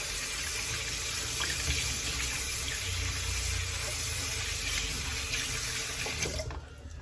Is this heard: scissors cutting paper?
no